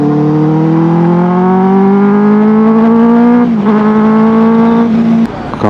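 A Benelli 600i motorcycle's engine and exhaust rev loudly and close by, the pitch climbing steadily for about five seconds before dropping off sharply near the end, with no voices over it.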